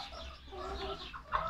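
Hen clucking in a backyard flock kept for brooding, soft repeated clucks with a brief louder call near the end, close by over a low hum.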